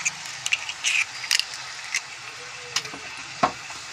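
An egg fries with chow mein in a hot pan, giving a steady close sizzle broken by short scraping and stirring clicks from a spatula, with no voices.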